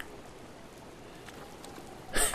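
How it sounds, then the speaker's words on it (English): Steady soft patter of rain in a video game throughout, a continuous wash of drops with a brief louder burst near the end. "Oh, I can't. It's raining."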